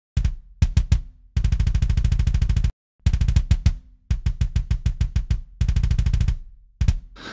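A dynamic kick drum sample plays loud, tight bursts of very fast double-kick hits in stop-start metal patterns, separated by short silences, with varying hit strength.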